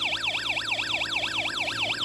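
A Snap Circuits electronic alarm set to imitate a police car siren sweeps its pitch rapidly up and down in a continuous whooping wail, loud and steady, alone without speech.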